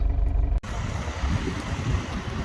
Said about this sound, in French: Ouais, il fait du vent à Montpellier.